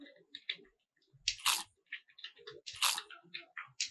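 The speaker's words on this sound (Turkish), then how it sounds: "Bir ısırma sesi." Crunchy biting sound effect from a simple JavaScript browser game, several short crisp bites in an uneven rhythm, close and fairly quiet, with no talk.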